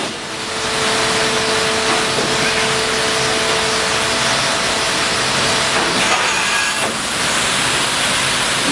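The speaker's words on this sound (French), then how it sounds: "nous avons les couteaux de débarburage qui vont se déplacer et venir couper l'excès de matière qui s'est formé par écrasement des rails" Rail deburring knives cut excess metal squeezed out from crushed rails in a railway workshop, a loud continuous grinding roar with a faint tonal hum, ending in a couple of sharp metallic scrapes.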